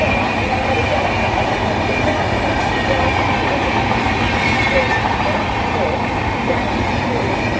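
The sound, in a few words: train arriving at railway platform 4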